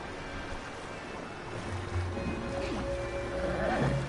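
Horses neigh and whinny in the video game Red Dead Redemption 2 as a loose, confused herd is rounded up, with a rising whinny near the end over a steady ambient wash of wind and water.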